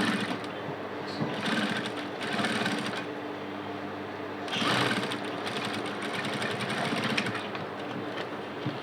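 A sewing machine stitches a quarter-inch casing for corset boning, running in a fast continuous whir with slight surges in speed over nearly nine seconds, close and clear with no talking.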